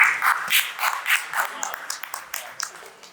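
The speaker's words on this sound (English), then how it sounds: "a huge round of applause for him" An audience at an agri-food tech conference gives a round of applause. The claps are loud at first and then thin out into scattered individual claps.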